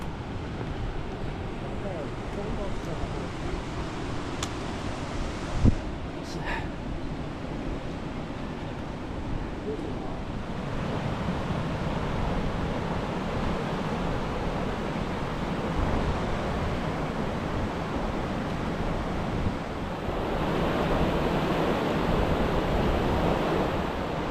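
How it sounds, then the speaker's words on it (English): Surf washing onto a beach on the Annapurna Base Camp trek near Machapuchare, a steady broadband rush with wind noise on the microphone and a brief knock partway through. "Now we have a beach here."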